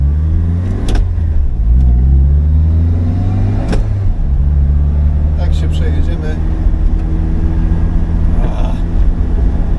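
Opel Speedster driving on a cold, wet road, its engine droning and shifting pitch with gear changes while loud tire and cabin noise fills the interior; someone talks over it throughout.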